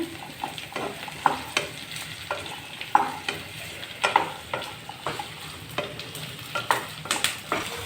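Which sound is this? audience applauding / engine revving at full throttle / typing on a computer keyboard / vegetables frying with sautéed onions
vegetables frying with sautéed onions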